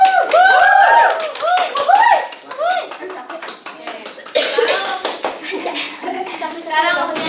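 A classroom applauds during a micro-teaching lesson. Scattered hand claps rise and fall through lively voices, chatter and a little laughter.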